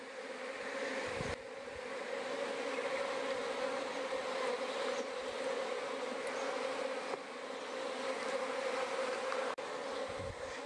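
Honey bees buzz around hive splits outdoors, a dense, continuous drone of many insects that holds steady and fairly soft throughout, with no talking.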